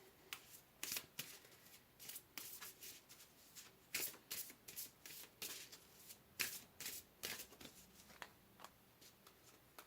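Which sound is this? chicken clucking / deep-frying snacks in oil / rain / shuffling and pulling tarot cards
shuffling and pulling tarot cards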